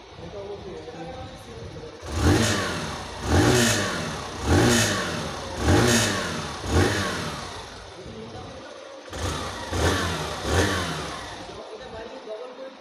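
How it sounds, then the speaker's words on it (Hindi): Hero Glamour Xtec 125cc motorcycle, 2023 model, with its exhaust revved repeatedly: about nine throttle blips rise and fall in a steady rhythm over the idling engine, loud and close, with a short pause partway through. "तो अब मैं आपको इसके एग्जॉस्ट के साउंड को सुना देता हूँ।"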